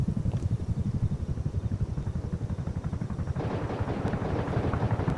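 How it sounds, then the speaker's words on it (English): Rapid, sustained gunfire in the video game Rust, a dense run of repeated shots throughout, growing busier and brighter partway through, with no talking. "they're fucking shooting at us!"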